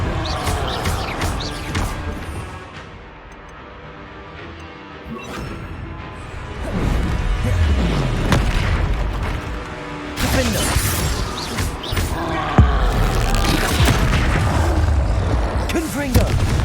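A Confringo blasting spell explodes during combat in Hogwarts Legacy on Xbox Series X, with loud crashing booms and whooshing impacts over a dense rumbling game mix, and in-game voices nearby.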